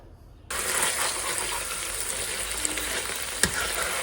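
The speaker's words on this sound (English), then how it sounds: "I'm going to fry the beef first" After a brief quiet moment, loud, dense sizzling bursts in as beef hits a hot pan and keeps crackling steadily close by.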